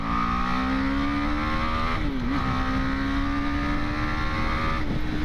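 BMW G 310 GS motorcycle engine revving hard in second gear, a loud steady rising drone with a brief dip partway through and a short break near the end, heard on its own.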